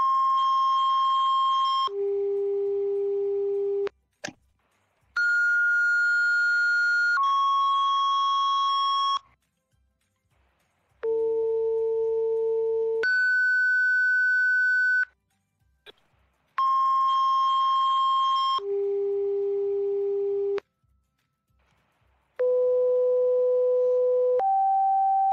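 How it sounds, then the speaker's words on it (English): A sequence of fire dispatch alert tones: long steady electronic tone pairs, each a few seconds, changing pitch from one pair to the next, separated by short silences and brief clicks, loud and clean with no voices. "Unit standby for tones."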